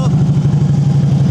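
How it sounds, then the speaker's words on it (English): A Harley Davidson Ultra Classic FLHTCU motorcycle engine idling, with a loud, close, even low thump pulsing steadily from its pipes while someone talks over it. "Motor's nice and quiet."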